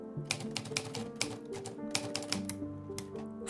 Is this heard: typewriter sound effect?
yes